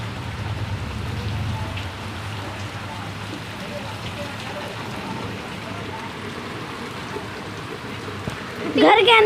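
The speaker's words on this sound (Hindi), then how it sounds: "तेज बारिश वो भी दिल्ली एनसीआर में" Heavy rain pours steadily in Delhi NCR, a dense continuous hiss of water on surfaces that stays loud throughout, with a brief louder splash near the end.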